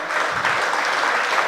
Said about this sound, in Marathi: एकदा शांताबाई यादवांसाठी जोरदार टाळ्या